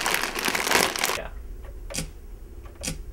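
Cheetos crunched in a broadband burst of crackling for about a second, then a few sparse, separate crunches, close and alone.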